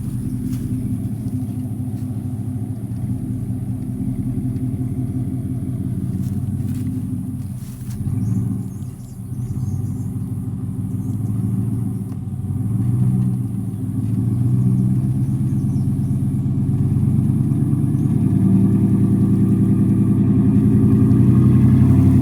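An old first car that has sat unused rolls along on flat tires while its engine rumbles steadily, its wheels spinning briefly, with a low continuous drone that swells louder toward the end, close by and with no talk over it.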